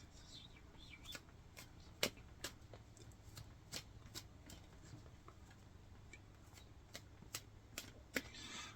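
Oracle cards shuffled by hand in a quiet room, a soft run of quick papery riffles and flicks with a few sharper taps, faint and close, with no talking.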